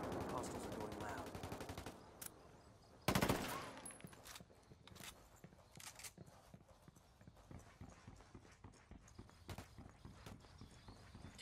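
Gunfire in the video game Ghost Recon Wildlands, PvP match: loud bursts of automatic fire near the start, a sharp blast around the third second, then rapid irregular shots and clattering footsteps, with brief voices.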